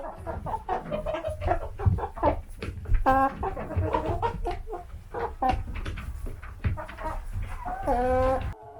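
Backyard chickens clucking and squawking inside a coop, close and busy, with repeated calls throughout and a louder cackle near the end.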